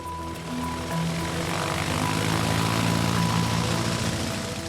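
A propeller airplane drones steadily and loudly throughout, its engine hum holding an even pitch with a broad whooshing wash, in a Guadeloupe setting.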